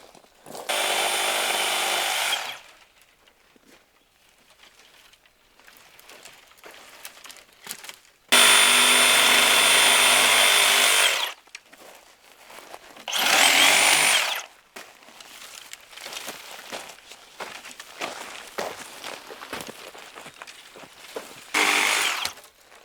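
A DeWalt 60V Sawzall reciprocating saw cuts in several loud, buzzing bursts of a few seconds each, separated by quieter gaps with faint handling noise.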